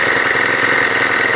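Small two-stroke engine on a garden tiller with rotary tines, running flat out at full throttle under load while working flower beds; a loud, steady, buzzing drone with a rough knocking edge, close by and continuous with no talk.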